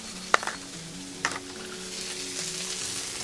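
Steak and garlic on an outdoor griddle give a constant low sizzle, broken by two sharp clicks or taps of a spatula early on.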